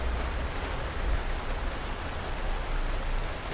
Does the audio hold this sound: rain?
yes